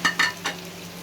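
Chopped tomatoes drop into a pan of sizzling spiced puti fish, giving two quick wet splats followed by a softer third. A steady frying hiss runs underneath throughout.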